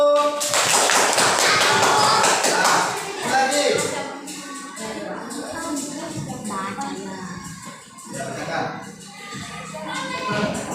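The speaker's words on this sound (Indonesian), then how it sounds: "Sekali lagi, tepuk tangan dulu." Students in a classroom clap together in a brisk, dense burst of applause that fades over a few seconds, followed by scattered taps, shuffling and talking.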